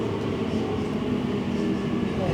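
Inside a National Rail train bound for Liverpool Street in London, a constant low rumble and broadband running noise hold steady, with no distinct clanks or breaks.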